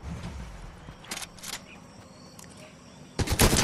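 Gunfire bursts in a versus battle of a Fortnite-style shooter played with a Dragon Ball Z Vegeta skin, a couple of sharp shots early and a louder burst at the end over a steady game background.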